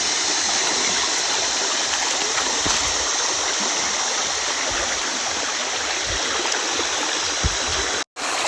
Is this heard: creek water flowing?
yes